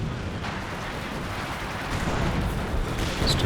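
Mortar shells land in a Company of Heroes 2 match, a rumbling barrage of low booms and blasts that builds toward the end, dense and loud without speech.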